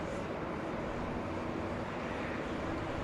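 Steady, broadband jet roar from an Alaska Airlines Airbus A320 airliner taking off at Los Angeles International Airport, constant and fairly distant with no voices over it.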